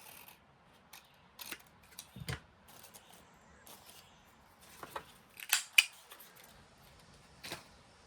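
Scissors snipping paper scraps for a journal page, a string of quiet, sparse cuts spread irregularly over several seconds, close to the listener and with no one talking.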